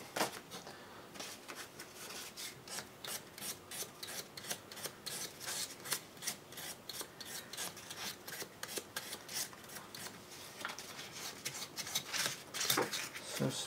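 Guitar fret ends rubbed with 600 grit sandpaper to shape semi-hemispherical dome ends: a steady run of quick, soft rasping strokes, close up and fairly quiet, with no talking.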